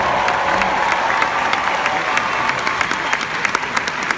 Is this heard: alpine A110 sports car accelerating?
no